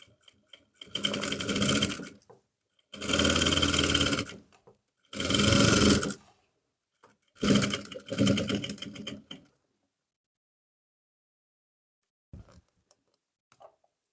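A sewing machine stitches a trouser seam beside the pocket in four loud, close bursts of rapid whirring, each about a second long with short pauses, then quiet with a few faint knocks.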